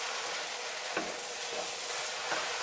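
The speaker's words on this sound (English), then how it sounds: "Stir that through." Red lentil dhal is stirred in a hot pan, a steady sizzle and hiss running throughout with a few soft scrapes of the spoon near the start and end.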